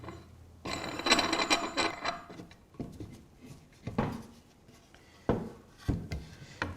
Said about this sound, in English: Put one of the wing nut assemblies on.